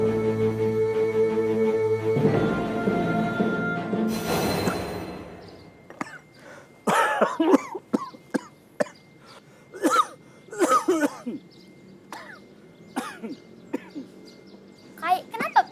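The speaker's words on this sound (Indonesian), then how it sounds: "kenapa pian batuk?" A child coughs and clears the throat in a few short, sharp bursts, heard near and fairly faint after some earlier sustained sound, with speech around it.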